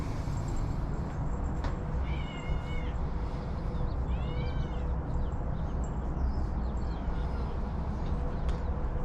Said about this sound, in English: I don't know why he meows when he's walking away.